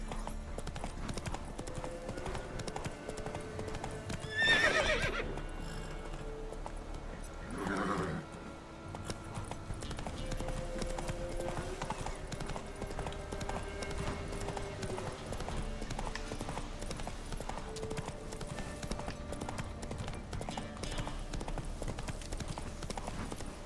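A horse gallops in The Witcher 3 on PS5 with steady rhythmic hoofbeats across the whole stretch, a short whinny-like burst near five seconds, and game music and ambience underneath.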